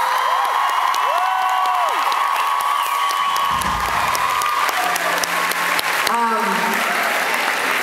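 A concert audience applauds and cheers, loud and sustained dense clapping with whoops and shouts, while voices call out over the crowd.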